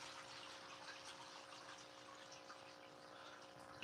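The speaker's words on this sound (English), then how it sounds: "You're just gonna have to deal with the water noises up here." Steady, faint water noise runs continuously throughout, a constant wash of flowing or pumped water with a low, even hum beneath it and no talking.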